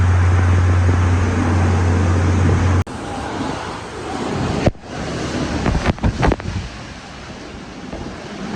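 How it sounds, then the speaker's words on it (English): Hurricane Ida's gusts in LaPlace, Louisiana roar as loud, steady wind buffeting the microphone over surging waves, with a sharp break near three seconds and a few hard gusts bursting through toward the end. "covering Hurricane Ida, 80-mile-an-hour gust here in LaPlace"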